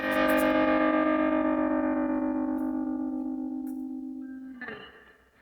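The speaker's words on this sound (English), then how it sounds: "You can really hear that tremolo on the guitar here at the end." An electric guitar with a tremolo effect sustains a ringing chord at the close of a soul song. The chord slowly fades over several seconds before a short final strum dies away.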